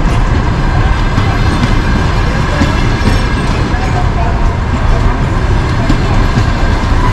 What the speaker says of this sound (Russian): Поезд достаточно длинный.